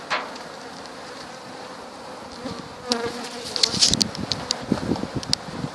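Honey bees buzz steadily close by during a removal, being gathered into a box, the drone growing busier and denser partway through, with faint rustling and knocking among them.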